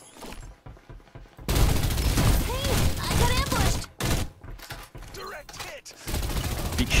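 Rapid gunfire bursts from a Turkish multiplayer shooter match, loud and dense, cutting in after a quiet opening and continuing in stretches with brief gaps.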